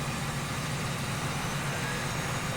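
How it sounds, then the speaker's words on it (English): A tractor towing a planter in Farming Simulator 15 on an Oklahoma map, a steady droning engine hum that stays constant and unbroken, loud and close with no pauses or change in pitch. "I didn't forget to start the planter."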